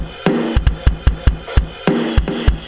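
Metalcore drum kit samples from a Kontakt library play a tight groove of punchy kicks and sharp snare cracks with cymbal wash, loud and dry with no talking over them.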